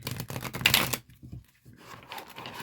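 Cards being shuffled up close: a dense riffling burst for about a second, a brief pause, then softer, quieter shuffling that continues to the end.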